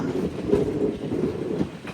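The Repalle Express pulling away from Nalgonda railway station, a low steady rumble of wheels and carriages heard from inside the train, moderately loud with faint rhythmic clatter.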